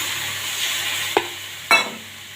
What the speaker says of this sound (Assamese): মই গাখীৰ দি এতিয়া লৰাই থাকিম।